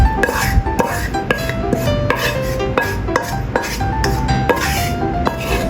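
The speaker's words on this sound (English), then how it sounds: "Plate cabbage." Stir-fried cabbage scraped and scooped from a pan onto a plate, with repeated metallic clinks and clanks of a utensil against cookware in an irregular rhythm, close and fairly loud, no voices.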